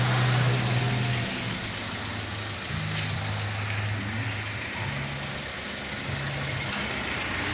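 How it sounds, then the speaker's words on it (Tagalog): A Toyota Avanza engine idles steadily after a car wash, with a low, even hum and broad background noise running through the whole stretch, no voices. "Pinaandar ko na po yung makina mga idol."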